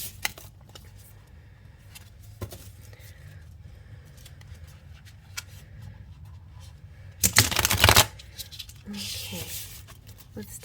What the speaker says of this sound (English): Let's shuffle real good.